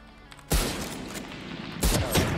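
Two sharp gunshot bursts in the shooter video game Free Fire, the first loud and sustained with a long ringing tail, the second arriving near the end, with no voices.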